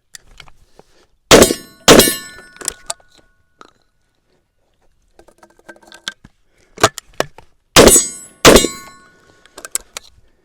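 Stoeger coach gun being reloaded and fired with birdshot: two pairs of loud, sharp blasts several seconds apart, separated by quieter metallic clicks and clatter of shells being handled.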